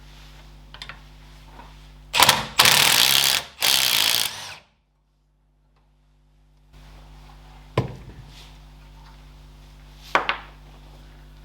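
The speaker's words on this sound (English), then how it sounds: "I'm going to use the impact for that." An impact wrench loosens a clamp on the steering arm of a Ferguson TED20 tractor in a workshop, giving three loud, close rattling bursts followed by silence and a few sharp metallic clanks.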